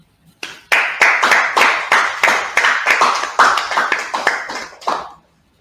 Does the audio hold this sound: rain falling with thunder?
no